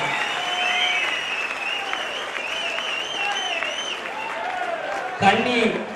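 A crowd at a Madurai gathering claps to welcome a speaker to the stage, continuous applause under a tonal voice or music, with a brief louder burst near the end.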